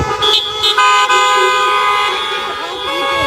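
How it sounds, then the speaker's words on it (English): Car horns honk together at a drive-in kickoff event, a loud sustained chorus of overlapping tones with short blasts layered in, close and continuous throughout. "if we could get a big honk for all the agencies"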